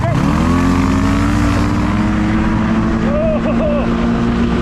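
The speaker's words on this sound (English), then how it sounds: "All right, it's time for a drag race. Three, two, one, go!" A Honda Pilot FL400r and a Polaris Ace 900 drag race, their engines revving up together into a loud, sustained, rising drone close by.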